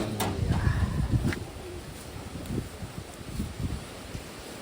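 Pigeons in a Taiwan bird setting give low, soft coos in short repeated bursts over faint rustling and light wind, close by and moderately loud.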